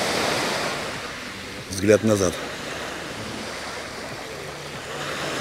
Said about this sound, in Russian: А море посмотреть интереснее будет.